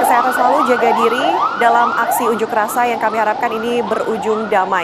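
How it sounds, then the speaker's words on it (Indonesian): An ambulance siren wails, sweeping up and down repeatedly in a steady, continuous cycle, loud and close, at a rowdy protest in Pati, Indonesia, with a person talking over it throughout. "tadi suara ambulans juga terdengar langsung dari tempat Anda melaporkan"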